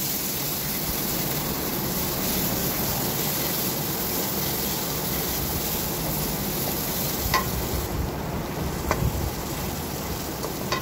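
Masala for a restaurant-style mushroom gravy sautéing in a pan, a dense continuous sizzle close up with occasional faint clicks of a spatula, no voices.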